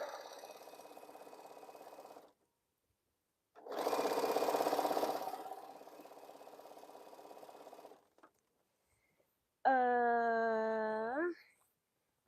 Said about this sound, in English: It's just sewing. It's just a jelly roll race.